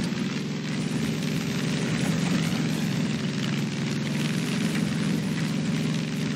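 A steady propeller airplane engine drones loudly and continuously inside Far Cry 5, a constant low hum with no breaks and no talking.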